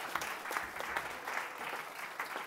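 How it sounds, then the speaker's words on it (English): An audience applauds a panel at the close of a discussion event, steady dense clapping holding at an even level for a couple of seconds with no voices over it. "let's give them all a round of applause"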